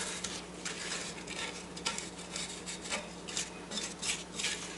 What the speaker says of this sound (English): I'm going to stop it for a second and just scrape the edges of the bowl again.